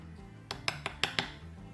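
A metal spoon scooping nail glitter into an empty pot gives five light, bright clinks in quick succession, close and fairly quiet.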